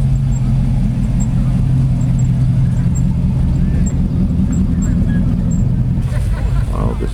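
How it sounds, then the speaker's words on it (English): A big RV towing a trailer passes at a vintage car meet campground, a loud continuous low engine rumble that holds steady before easing off near the end, with a voice talking over it. "Big RV trailer."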